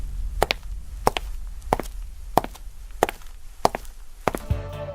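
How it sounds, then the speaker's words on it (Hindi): Six evenly paced footsteps land one after another with sharp, woody thuds, close and distinct over a quiet background, followed at the end by a brief rising tonal sound. "लेकिन उसे पीछे से कदमों की आवाज़ सुनाई दी।"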